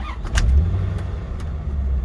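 A 1996 Chevrolet Corvette with the LT4 engine, Z51 package and six-speed gearbox fires up, giving a quick starter click and then settling into a loud, deep, steady idle rumble close by.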